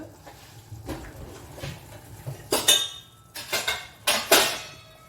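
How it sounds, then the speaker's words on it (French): A lid is set on a pot of corn in tomato sauce on a stovetop, with a few light metallic clinks followed by louder clattering knocks of lid against pot. "Et on va couvrir et on laisse cuire 5 minutes."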